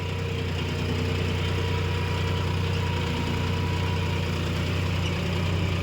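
A John Deere 5050 D tractor engine running at steady revs, giving a loud, close, constant diesel drone with a throbbing, knocking pulse and vibration throughout, no voices.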